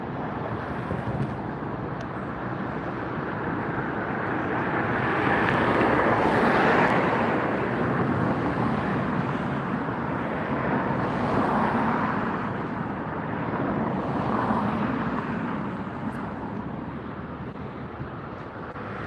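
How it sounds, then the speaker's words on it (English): A Virgin Atlantic airliner taxiing at Los Angeles Airport, a broad steady engine roar from a distance that swells and fades slowly, mixed with wind rumble on the microphone. "I see the Virgin Atlantic taxiing out over here"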